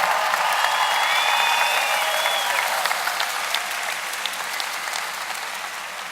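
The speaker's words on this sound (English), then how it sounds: "Give yourself a round of applause." Audience applause at a school district convocation fills a large hall with steady clapping that gradually tapers, while a few faint whistles rise over it early on.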